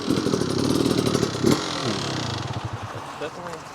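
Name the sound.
Beta 350 RX two-stroke dirt bike engine running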